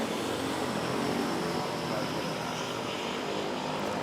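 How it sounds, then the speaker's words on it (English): A DHL Airbus A330 cargo jet taking off at Manila airport, with a loud, steady broadband engine roar that fills the whole clip and a voice speaking underneath. "nice smooth takeoff there"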